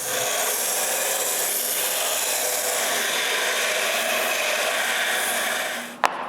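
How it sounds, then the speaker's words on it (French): Rust being filed off a small metal piece at a workbench: a continuous rasping scrape of steady strokes, ending in a single sharp knock. "j'enlève aussi toute la rouille."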